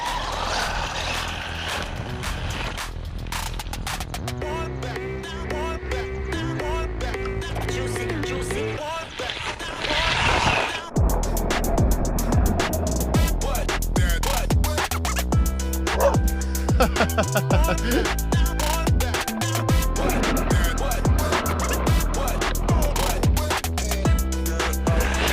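WLtoys RC car fitted with a bigger motor and faster gearing on a stock ESC, driven hard: a dense, continuous whining motor and gear noise with rattles, quieter at first then loud and busy after a brief dropout.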